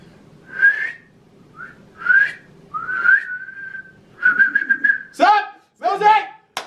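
A person whistles several short, clear notes and a longer sliding tone, pausing between phrases, before a voice briefly speaks at the end.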